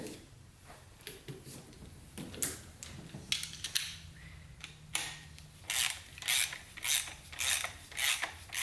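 Torx bolts are tightened on a 4L80E transmission during a rebuild, giving quiet irregular ratchet clicks and metallic rasping. A burst of faster clicking comes near the end.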